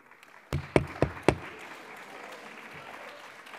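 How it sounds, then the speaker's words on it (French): Applause in the French parliament during a debate on the PACTE bill: four sharp, loud claps in a quick uneven rhythm, then a faint murmuring room. "Applaudissons-le."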